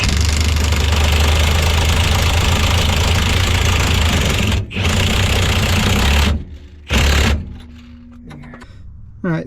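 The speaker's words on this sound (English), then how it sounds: "I ended up using my impact and running the bolt in with it" An impact wrench hammers a rear strut bolt home on a Honda Accord, a loud, continuous rattling buzz lasting several seconds before cutting off, followed by a brief second burst and quieter clanks.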